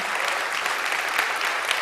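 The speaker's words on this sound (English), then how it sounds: "give them a round of applause" A brief burst of warm applause from an evening event audience honoring the PERK team and volunteers, many hands clapping in a dense, even wash.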